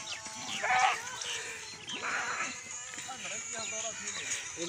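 A frightened goat bleats in a few wavering cries against a noisy outdoor background, with people talking nearby.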